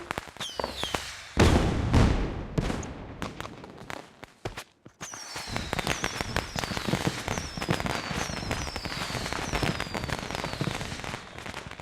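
Fireworks bursting nearby in rapid irregular volleys of sharp cracks and bangs, with whistling rockets rising between them, continuing loudly for the whole stretch.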